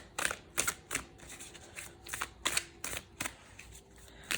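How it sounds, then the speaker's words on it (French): A large 80-card deck being shuffled by hand, with a series of crisp riffling bursts at an irregular rhythm, close and fairly quiet, with no talking. "il y a 80 cartes. C'est pas le jeu le plus facile à mélanger."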